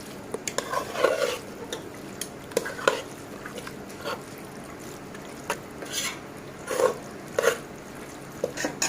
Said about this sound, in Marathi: आता व्यवस्थित परतून घेऊया आपण चांगले मसाले लागायला पाहिजे